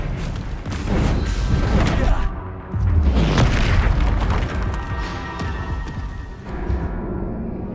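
A spell cast in the Hogwarts Legacy video game, heavy booming magical impacts and whooshes layered over game music, with a voice calling out amid the effects.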